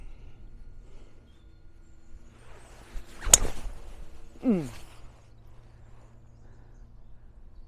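A golf club swings once in a practice stroke and strikes a ball, giving a sharp crack followed a second later by a short swishing whoosh, set against quiet outdoor ambience.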